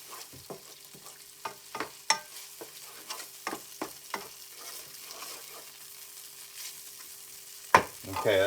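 Frying pan sizzling with onions cooking, punctuated by repeated scraping and stirring knocks; fairly close, with no voices.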